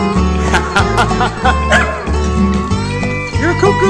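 A freshly bathed pet dog barks loudly and repeatedly at close range in an excitable, uneven rhythm, with yips and whimpers mixed in and a hint of laughter in the background.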